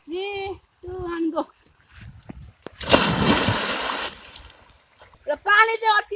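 Water splashes loudly for about a second while someone bathes, a single churning burst in the middle. Children's voices talk on either side of the splash.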